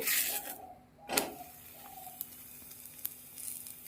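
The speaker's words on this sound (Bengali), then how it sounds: "একইভাবে টমেটোটা দিয়ে দেবো প্রথমে আগে উল্টে পাল্টে ভালো করে ভেজে নেব" Tomato frying in a dry pan without oil, a soft sizzle with a few brief hissing bursts and light scrapes as it is turned, fairly faint and close.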